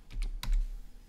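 Someone types on a computer keyboard, giving a few quick, close key clicks in a short burst.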